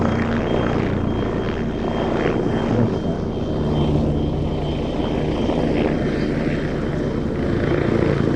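A helicopter performing at an air festival display produces a sustained, moderately loud rotor and engine drone with some pulsing throb, heard alone without speech.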